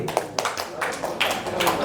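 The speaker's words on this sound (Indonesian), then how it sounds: "Berikan tepuk tangan untuk Pak Ayat ya, lagi." Scattered hand claps from trainees at a peer-teaching training session for prospective school principals: a few sparse, uneven claps over a murmuring room.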